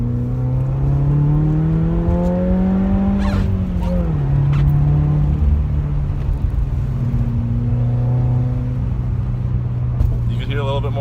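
A 2018 Subaru WRX with a Nameless cat-back exhaust accelerates, its exhaust droning and climbing in pitch through a gear, dropping on a shift, then pulling again, loud and steady from inside the car with a voice talking faintly underneath.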